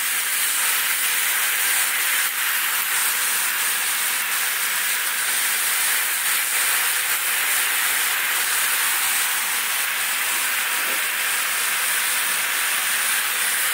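Chopped spinach hits a hot pan and sizzles loudly, a dense, unbroken hiss that holds steady the whole time.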